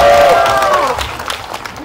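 Audience applause in a CGV cinema during a stage greeting for a Korean film, a dense burst of clapping under an excited voice that trails off into scattered claps.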